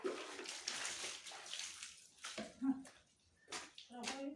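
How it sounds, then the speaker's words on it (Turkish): Water splashes and pours while household items are rinsed on a cleaning day, coming in uneven bursts with short pauses, and a voice talks in between. "Bir de durulayım üstünü."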